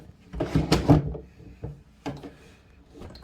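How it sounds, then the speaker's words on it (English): A chair creaks and shifts under someone, with several wooden knocks and scrapes close by. The first cluster is loudest, followed by quieter movements, and there is no talking. "Sorry, my chair."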